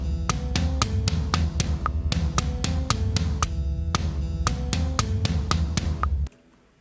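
Thunderous drum part played on kick drum and two floor toms. Quick, driving tom hits roll steadily over a booming low end, then cut off abruptly.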